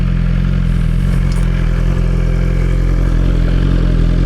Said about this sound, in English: let me show you guys real quick what the bike looks and sounds like